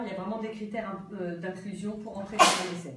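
A single sharp sneeze bursts out near the end, loud and close, just after a person finishes talking.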